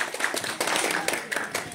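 Short burst of audience clapping at a ghazal gathering, a scattering of hands applauding quickly and unevenly for under two seconds.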